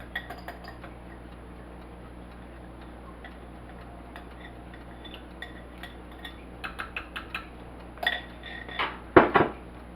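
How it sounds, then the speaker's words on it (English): A spoon stirs and scrapes through rice mixed with a butter mixture for rice pudding in a bowl, with soft clinks and taps that grow louder toward the end over a quiet hum. "We're just going to mix that well."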